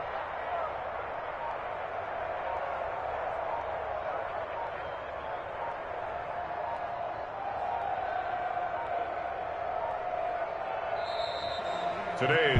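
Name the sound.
home crowd applauding in Madden 21 video game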